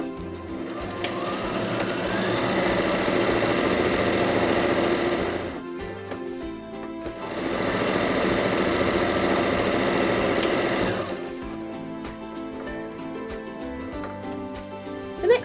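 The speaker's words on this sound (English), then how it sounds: "And then I stitch the other side." Sewing machine runs steadily in two long bursts, stitching the second side of a reversible tote bag; a loud close mechanical whir with a short pause between runs, then quieter handling.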